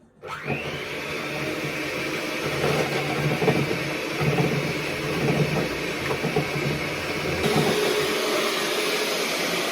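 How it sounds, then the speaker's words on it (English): An electric whisk whips cream with icing sugar, a steady loud motor whine that starts abruptly and runs continuously with slight shifts in pitch, and no talking. "chuck some icing sugar in it again, and we're going to set off whisking"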